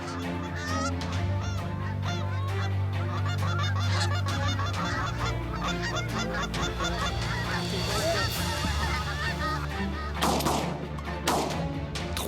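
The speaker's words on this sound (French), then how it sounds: "Fred, c'est un peu les bernaches qui ont joué la vedette cet avant-midi." Canada geese honk repeatedly from a flooded field, loud overlapping calls in a busy, continuous chorus, with a sharp blast ringing out near the end.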